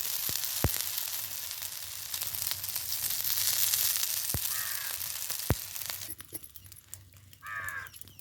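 Oil is drizzled around rice dumplings (bhat kundule) cooking in a pan, giving a steady sizzle that fades near the end, with crows cawing in the background.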